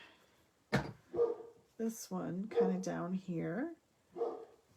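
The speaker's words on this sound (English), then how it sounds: "Excuse the dogs barking." Dogs bark in short bursts in the background during a home card-making session, a few yaps breaking through while someone talks over them.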